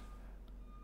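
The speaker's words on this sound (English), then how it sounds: "If you hear beeping, there's a movie truck idling outside." Faint, muffled reversing beeps come from a movie truck outside, heard briefly over a low steady rumble from indoors.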